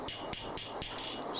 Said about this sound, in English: there I was going on hammering it back straight and square to get the thickness first